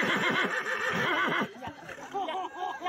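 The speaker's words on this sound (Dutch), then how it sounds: "Een instemmend gehinnik." A horse whinnies loudly and close at a dressage show, a long shaking neigh followed by softer snorting and breathy sounds.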